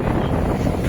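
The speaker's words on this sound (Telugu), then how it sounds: "గాలి నుండి చాలా స్పీడ్గా పెడుతుంది గాలి." Strong wind roars against the microphone during a highway bicycle ride near Kanyakumari, a loud, dense, steady rush filling the whole brief moment.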